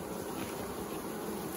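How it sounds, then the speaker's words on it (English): Honey bees at a swarm on a tree limb hum in a dense, steady drone, many wings buzzing together close by with no voices. "bees were reared up fanning right here at this limb"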